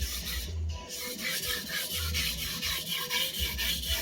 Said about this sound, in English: let me sharpen the other side first briefly